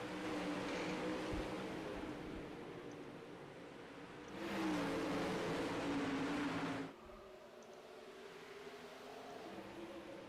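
360 sprint car engines in a sim racing game roar away at the green flag start, swelling to a loud, sustained surge over a steady mechanical drone before dropping back.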